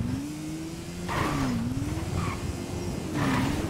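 A car engine drones steadily with rising and falling revs during a GTA 5 street race, loud and continuous with no voices.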